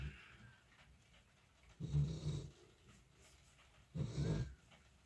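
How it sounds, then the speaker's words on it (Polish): A small dog snores indoors in two slow, soft, low breaths about two seconds apart, with faint rain falling against a nearby window in the background. "Dzisiaj nie dość, że będzie chrapał piesek, to możecie słyszeć jeszcze deszcz padający tutaj akurat mi od okna"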